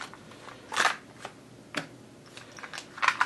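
Tarot cards are shuffled by hand in a quiet room: several short, crisp riffling bursts with pauses between them, the last one the loudest.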